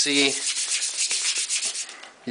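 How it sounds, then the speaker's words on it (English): Sanding a permastone craft piece, a plaster-like material, by hand or with a sander, giving a steady close-up abrasive rubbing with rhythmic strokes throughout and a brief tonal hum at the start and end. "When you sand it, you're sanding."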